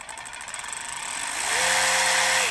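DeWalt DCF513 20V Atomic cordless 3/8-inch ratchet spinning under its variable-speed trigger, a close rattling whir that starts slow and rises to a steady whining motor pitch, with no talking.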